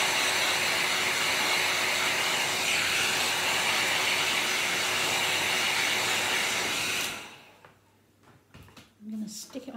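Heat drying tool blasting over wet paint on a handmade card, a loud, steady close hiss lasting several seconds before cutting off, followed by a quiet voice and small handling sounds.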